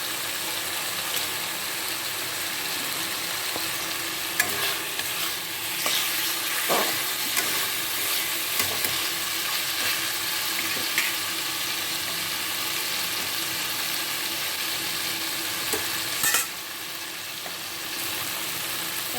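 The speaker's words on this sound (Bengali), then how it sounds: "এবারে আমি এর মধ্যে একটু টমেটো দিয়ে দিচ্ছি।" Tomato sizzles and fries in a pan for a Bengali-style mutton curry, a steady loud hiss running throughout with occasional stirring scrapes and pops.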